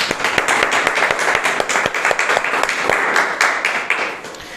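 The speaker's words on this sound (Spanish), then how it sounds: "Demos un aplauso al Señor." Members of a church congregation clap together, with sharp, distinct hand claps falling in a loose rhythm over a background of broader applause, loud and close, tapering off near the end.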